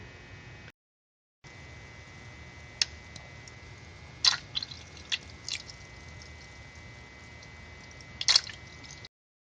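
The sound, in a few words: radiator coolant draining into a bucket, Nissan 240SX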